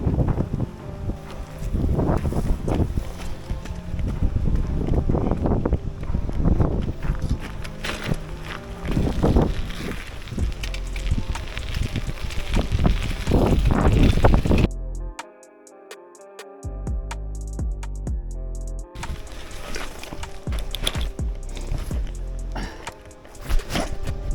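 Strong wind blusters across the open seashore in Lauttasaari, Helsinki, roaring and buffeting the microphone in loud gusts, then briefly easing before picking up again, with no talk.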